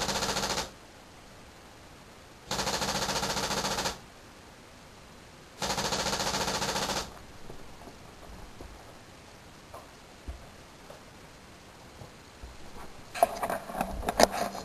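A laser-activated X7 paintball machine gun fires three loud sustained bursts of rapid shots separated by pauses, followed by quieter scattered clicks and ticks.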